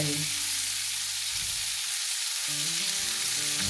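Carrot, bell pepper, cabbage and onion fry in a pan with a loud, steady hiss of oil that fills the whole moment, close up and with no voices.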